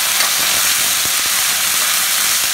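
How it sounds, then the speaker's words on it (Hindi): Potatoes with browned onions and red chilli fry in a pan with a loud, steady, close sizzle that runs without a break. "आलू को थोड़ी देर के लिए भून देंगे"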